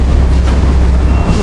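Low, steady rumble of trains at Gare de Lyon station in Paris, a continuous dense roar with no voices, as if from a passing or idling train close by.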